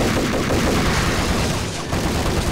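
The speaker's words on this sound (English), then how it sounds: "I'll try shooting him a little bit." Gunfire in the Max Payne video game, a dense, continuous burst of shooting that fills the whole moment, loud and close with no pauses.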